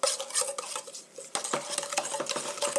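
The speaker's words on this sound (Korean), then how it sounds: "설탕이 다 녹을 때까지 고루 섞어주세요." Sedum (stonecrop) salad being tossed with sesame oil in a bowl, utensils clinking and scraping against the dish in quick, irregular strokes, close and fairly quiet.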